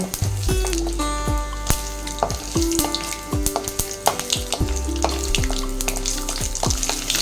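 Ivy gourd fries in a pan of hot oil, spluttering loudly with sharp, irregular pops and crackles over a continuous sizzle, close by and with no voices.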